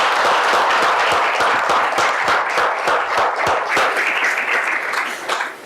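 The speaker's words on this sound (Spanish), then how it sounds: "Por favor, un aplauso para Alejandro." Audience at a public talk on the Central American refugee crisis breaks into sustained applause, dense clapping that holds steady for several seconds before tapering off at the end.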